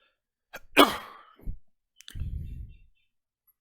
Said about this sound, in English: That was like a sneeze turned into a cough.